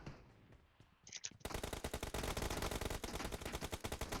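Gunfire in the mobile battle-royale game PUBG Mobile: a few scattered shots give way to a loud, sustained rapid-fire automatic burst that continues to the end.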